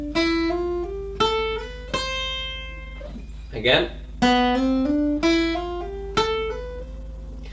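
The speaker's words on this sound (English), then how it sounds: "So exercise 1 is just an ascending legato technique on those 3 strings." Guitar playing an ascending legato hammer-on exercise across three strings, picked with a down stroke on the first note of each three-note group, in clear repeated phrases; a short spoken word breaks in near the middle.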